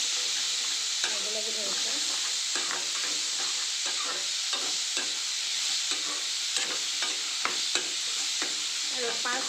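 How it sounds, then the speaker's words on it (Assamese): Mushroom and potato are stirred in a frying pan over steady sizzling oil, with repeated scraping strokes of the spoon; a voice speaks briefly over the cooking. "অকণমান লৰাই দিছোঁ"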